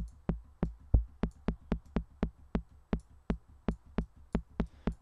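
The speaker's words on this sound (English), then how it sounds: "So I'm going to turn this so we can just hear our click for now." Synthesized kick drum click layer built in Harmor, sounding alone as a steady train of short, sharp percussive clicks with low thumps, about three per second over five seconds, fairly quiet.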